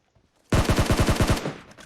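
Rapid burst of about nine gunshots in PUBG Mobile, loud and close, a steady automatic rhythm lasting under a second before it cuts off, with no talk over it.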